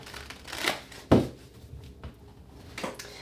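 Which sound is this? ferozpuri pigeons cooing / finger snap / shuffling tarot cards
shuffling tarot cards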